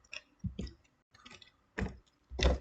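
Commands being typed on a computer keyboard, a handful of separate clicky keystrokes spaced unevenly with short pauses, close and fairly quiet, no talking.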